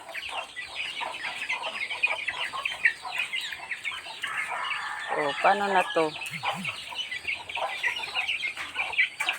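Many chickens cluck and squawk in agitation as one is grabbed, the frantic calls continuing throughout while a person speaks briefly.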